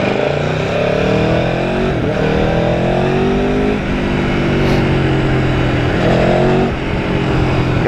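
An Aprilia Tuono V4 1100 Factory naked motorcycle revs hard, its engine note climbing in repeated rising sweeps with brief dips between gear changes, loud and close throughout, with no talk.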